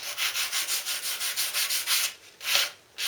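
Sandpaper of 320 to 400 grit rubs lightly over a filed vehicle lens in a run of about ten quick, even back-and-forth strokes, close and clear, then a pause and one more scrape.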